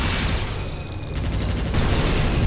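Dense, continuous gunfire and explosions from the PS2 video game Global Defence Force, loud and unbroken throughout.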